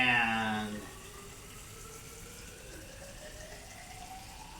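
Water pours into a measuring container while gauging candle burn volume, a strong gush that cuts off abruptly after a moment, leaving a quiet background hiss.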